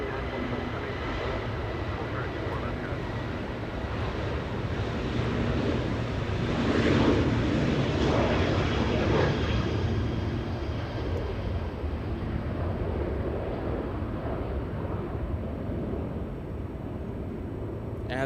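A Southwest Airlines airliner on Oakland-bound flight 282 at Los Angeles International Airport, its engines a steady broad roar that builds slightly midway and then holds, heard from a moderate distance with some wind noise.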